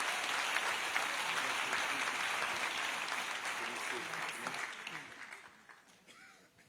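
Audience applause at a church missions symposium welcoming a speaker, steady dense clapping throughout that thins and fades toward the end.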